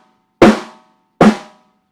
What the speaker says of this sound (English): Rim shot is when you're also hitting the rim too.